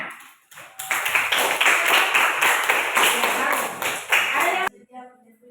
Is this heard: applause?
yes